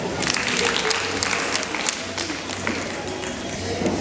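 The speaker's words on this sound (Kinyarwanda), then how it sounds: "aba mu mayinite tumukomera amashyi" An audience applauds with dense, continuous clapping that holds at a fairly even level for the whole stretch, with a faint murmur of the crowd mixed in.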